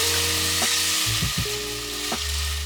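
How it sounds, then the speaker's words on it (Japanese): White wine hits a hot pan of butter and onions for a Breton fish stew, giving a loud, steady sizzle with a couple of sharp bursts as the liquid lands. "そこに白ワインを入れていきます。"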